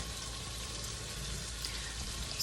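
Reserved sausage drippings sizzle in a hot pan with a soft, steady crackling hiss that is faint and continuous, with no talking.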